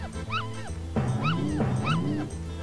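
Dogs in the video game Earthworm Jim 2 yip and bark in quick, bright bursts with whimpering tones, close and loud over steady game music.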